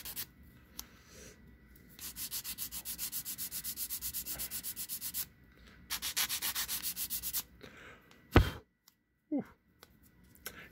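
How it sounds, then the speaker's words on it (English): Legs of a plastic Gundam model kit being sanded by hand, rapid rhythmic scratchy strokes in close bursts separated by short pauses, followed by a couple of brief knocks near the end. "Like right here, I'm working on sanding this."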